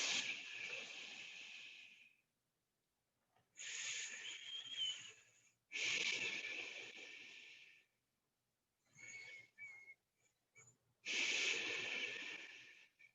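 Deep, audible breaths during a yoga stretch, heard as long hissing inhales and exhales through the nose or mouth, close and separated by short silent pauses, with about five breaths in all and no talk.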